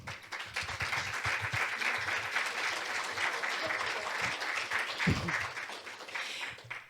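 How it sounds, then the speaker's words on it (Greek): An audience at a talk on parent education gives a speaker several seconds of sustained applause. The dense, even clapping comes from many hands, with a few louder individual claps, and it tapers off at the end. "Το χειροκρότημα σας αξίζει."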